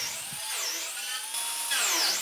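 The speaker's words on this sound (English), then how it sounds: "First I'll drill some holes in the fronts, so I can attach some small pieces on the front of the bench" A power drill whines while boring holes in plywood cabinet fronts for a modular workbench. The motor pitch rises and falls as it speeds up and slows down over a couple of seconds, fairly quiet and with no talking.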